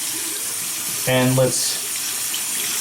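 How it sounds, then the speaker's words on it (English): Warm water runs steadily from a tap onto a shaving brush, a constant hissing splash throughout, with someone briefly speaking over it. "let's put some warm water on this brush"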